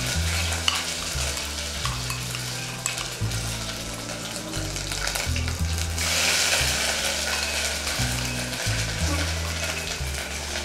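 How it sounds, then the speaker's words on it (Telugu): Crushed ginger and garlic frying in coconut oil, a steady sizzle with stirring scrapes and utensil knocks running throughout, loud and close with no talking. "ఈ ఆయిల్లో అల్లము వెల్లుల్లి దంచుకున్నది వేసుకున్నాం కదా, బాగా మరిగిపోయింది వీటితో"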